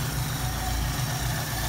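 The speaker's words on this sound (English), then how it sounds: "the solenoid pin collapses and the engine slows down." 1973 Ford Mustang 302 V8 idling low and steady with its idle solenoid unplugged, a continuous close rumble with no voices.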